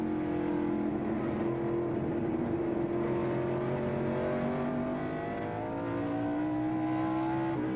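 NASCAR stock cars roar around the track at the 1996 Tyson Holly Farms 400, a steady loud engine drone with rising and falling pitch as cars pass and accelerate.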